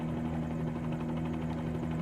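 Bell 47G helicopter in MSFS2020, its piston engine and rotor giving a steady, continuous buzzing drone with a strong low hum, constant in level throughout.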